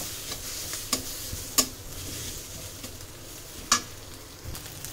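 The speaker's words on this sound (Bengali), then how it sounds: "ভাইজে নেই ভালো করে ঝুরঝুরা করে" Food being stirred and dry-fried in a pan with no oil, with a steady soft sizzle and scraping, and occasional sharp clinks of a utensil against the pan at close range.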